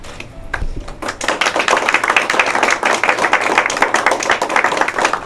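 Sustained audience applause at a portrait dedication ceremony honoring the Rubio family of Eagle Pass, a dense, steady wash of many hands clapping close by for about five seconds with no talk over it.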